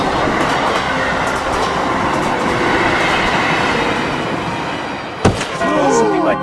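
Steady rolling rumble and clatter from inside a KRL commuter train in motion, loud and continuous, with a sharp knock and a rising wheel squeal near the end; faint voices may sit in the background.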